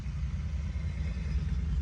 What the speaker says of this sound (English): I got the window open and the car's about to pass by